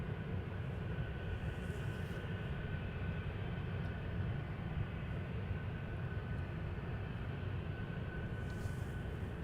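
A jet airliner's engines rumble from the runway at Amsterdam Schiphol Airport. The sound is a steady, low, distant roar that holds unchanged throughout.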